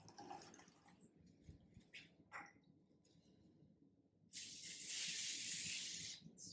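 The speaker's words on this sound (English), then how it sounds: "Spray so it doesn't stick." Cooking spray misted over braided challah dough, a loud, sustained aerosol hiss lasting nearly two seconds, preceded by quiet handling and rustling sounds in a kitchen.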